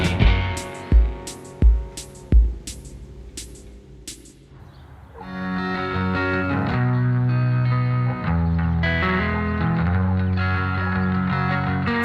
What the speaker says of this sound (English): When you crank the volume, the signal gets really gritty